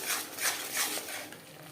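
Ground spices, cumin and turmeric, being stirred in an oily pan while cooking a Bengali fish curry with potato and cauliflower. Soft repeated scraping and light metallic clinks of the spoon come in a gentle rhythm, close and quiet.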